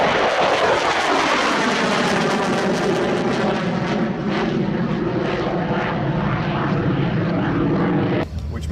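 A MiG-29 fighter's engines powering up, loud and close, with a broad, steady roar and layered whining tones that hold evenly for about eight seconds before dropping off abruptly at the end.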